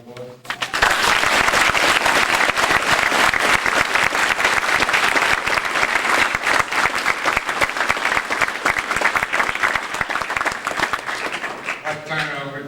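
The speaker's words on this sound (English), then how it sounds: "Can I have a round of applause?" Sustained applause from an audience at an award ceremony, dense and even, swelling quickly after a brief voice and holding for about twelve seconds before a voice returns at the end.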